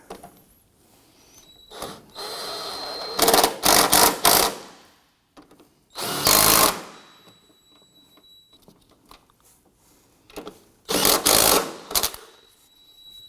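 Top strut nuts tightened on a 2003–2014 Volvo XC90 front strut assembly, with several bursts of a whirring power tool or ratchet, loud and close, separated by quieter handling noises.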